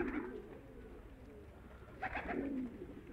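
Pigeons kept in a loft coo softly and repeatedly, a low murmuring that swells in two bursts near the end, heard fairly close against a quiet background with no talking.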